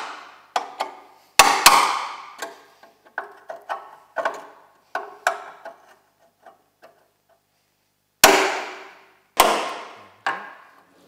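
An old claw hammer strikes in a series of sharp, ringing blows, irregularly spaced and close up, with a cluster of lighter taps in the middle and several heavy hits near the end.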